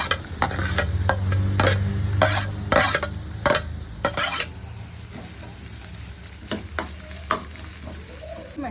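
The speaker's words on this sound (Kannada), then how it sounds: "ಫಸ್ಟ್ ಈರುಳ್ಳಿ ಹಾಕ್ತಾ ಇದ್ದೀನಿ." Onions fry in hot oil for egg fried rice, a steady close sizzle broken by repeated scraping stirring strokes of a utensil against the pan.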